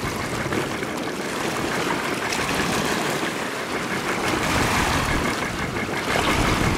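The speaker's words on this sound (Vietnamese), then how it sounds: "Tiếng máy nổ nghe đã ghê chưa." A fishing boat engine running loudly and steadily while the vessel sits run aground on a shallow channel, a constant broad roar mixed with water wash and no pauses throughout.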